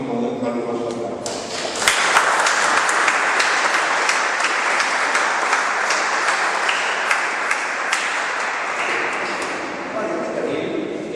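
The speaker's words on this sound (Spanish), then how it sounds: "Lo recibimos con un caluroso aplauso." Warm applause in a hall welcoming a Dominican friar as guest speaker at a talk: sustained, even clapping from a gathered audience over about ten seconds, with a bright ringing tone running through it.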